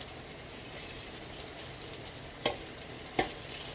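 Seitan with white beans frying in butter in a pan, a steady soft sizzle throughout with a couple of sharp clicks of a utensil near the end.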